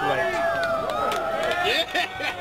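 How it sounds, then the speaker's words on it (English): A huge crowd at the 2012 Disc Golf World Championships reacting to disc golfer MJ, a dense wash of overlapping cheers, whoops and shouting voices, loud and continuous. "listen to the huge crowd reaction to MJ as he starts the round off"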